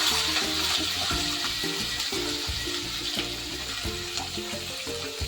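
Mixed vegetables sizzle and crackle steadily in a hot pan while upma is being cooked, a continuous close frying hiss with uneven popping and no voices.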